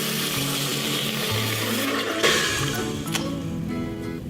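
Water poured into an already hot Instant Pot electric pressure cooker, a continuous rushing splash with sizzling hiss and sharp bursts as it hits the hot pot, loud and close with no talking.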